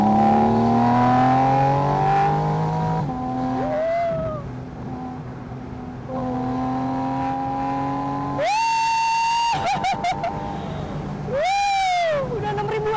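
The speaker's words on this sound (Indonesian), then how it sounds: "mau nyoba gimana rasanya dijambak sama naturally aspirated engine-nya dia" A Porsche 718 Spyder RS with its 500 PS naturally aspirated engine revs hard on a race track, climbing in sharp, loud bursts to a high-pitched wail after a steady drone, with brief talk from the driver.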